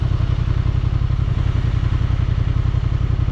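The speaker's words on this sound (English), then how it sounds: "I heard the fan come on to the water-cooled engine because we've been sitting still." A Honda TransAlp XL750 sits idling with its water-cooled engine's fan running, giving a close, steady, low pulsing thrum under a constant airy whir.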